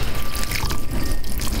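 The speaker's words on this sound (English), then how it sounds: "I'm gonna give it some water." Water splashing and trickling steadily onto newly planted coral berry shrubs in a garden, close and fairly loud with an uneven, continuous pour.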